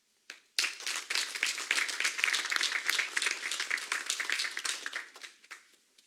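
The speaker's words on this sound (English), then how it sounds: "just a round of applause for these fine people" An audience at a community meeting breaks into a sustained round of applause, dense clapping rising quickly, holding steady for about five seconds, then tapering off, with no voices over it.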